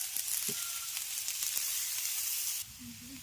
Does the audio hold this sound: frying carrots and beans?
yes